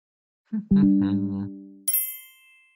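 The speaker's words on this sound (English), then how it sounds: "let me snooze my Dropbox notification" A Dropbox notification chime rings out as a short bright ding with a lingering metallic tail, following a brief electronic melodic tone on a quiet late-night computer.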